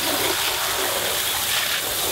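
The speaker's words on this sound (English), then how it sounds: "And then get the hose and wash it down one more time." Water from a garden hose rushes steadily over a fountain basin during spring cleaning, a continuous broadband hiss and splatter that stays loud and even throughout with no talking.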